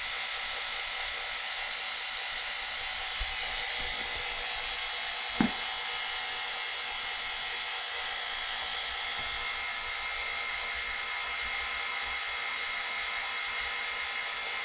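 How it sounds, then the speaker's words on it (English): A laboratory vacuum pump runs with a steady, even whine that holds unbroken for the whole stretch, broken only by a single short knock near the middle. "I'm going to go ahead and turn off the vacuum pump."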